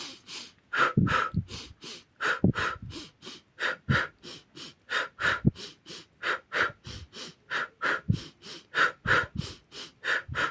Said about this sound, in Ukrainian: Ще раз беремо вдох і видих.